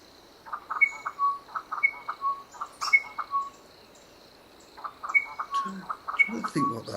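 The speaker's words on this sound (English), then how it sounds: "I barely know the birds in Costa Rica at all." Birds call in a Costa Rica forest, with repeated clear whistled notes and chirps at a moderate distance, in two bursts separated by a quieter pause, over a faint steady background hum.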